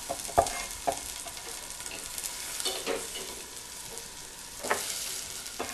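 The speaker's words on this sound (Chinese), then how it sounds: "我哋又係爆香啲洋葱佢嚇" Onions stir-fried in butter, making a steady close sizzle with occasional clicks and scrapes of a utensil moving them around the pan, no voices.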